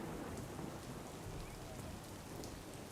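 Rain falls on a rural district in Gujarat as a faint, even hiss of drops that holds steady and unbroken.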